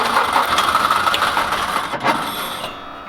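The engine of a Bros SP-54 roller, an abandoned road compactor, turns over and catches into a rough, rattling idle, with choke and throttle being worked, steady mid-range engine noise throughout.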